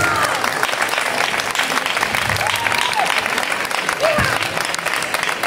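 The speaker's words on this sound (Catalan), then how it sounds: "Un aplaudiment per ella." Audience applauding a young participant at a children's casting for a princess and knight role, a steady wash of clapping from a small crowd, close and continuous for several seconds, with faint voices underneath.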